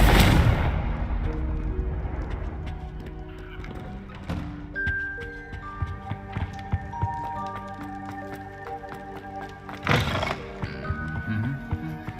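A Confringo fire blast spell goes off in the Hogwarts Legacy video game, with a loud burst at the start and a second blast near the end, set over a layered musical score and game effects.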